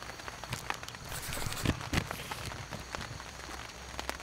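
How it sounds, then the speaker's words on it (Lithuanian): Rain pattering steadily on surfaces close by at the start of a travel day, soft and crackly with a few sharper drops, with no voices. "Pirmas kartas, kada pradedu šitoj kelionėje dieną su lietum"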